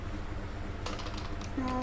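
Keys clatter on a newly unboxed computer keyboard in a short burst of quick typing strokes, close and moderately loud against a low background hum.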